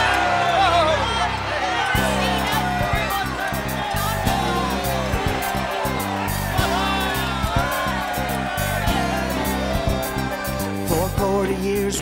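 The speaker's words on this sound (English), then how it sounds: "Shout, yell, scream, so that the heavens can hear you." Animated crowd of Israelites shouting, yelling and cheering together at the walls of Jericho, a loud sustained mass of voices with a steady musical bed underneath.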